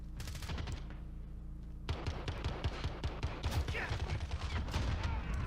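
M4 rifle gunfire in Call of Duty: Modern Warfare, rapid bursts of close shots that stop briefly and then resume in dense repeated volleys, fairly quiet overall.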